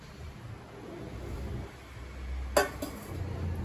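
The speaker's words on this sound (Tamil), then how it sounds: "எண்ணெய் கடாயை வைக்கிறேன்" A metal oil kadai set down on a lit stove gives one sharp clank with a quick rattling follow-up, near and fairly loud, over a steady low kitchen hum.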